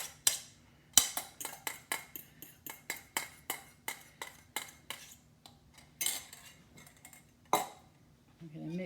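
A utensil repeatedly clinks against a mixing bowl as persimmon puree is stirred into whipped butter, egg and margarine for cookie dough: a close, brisk run of regular taps that slows near the end.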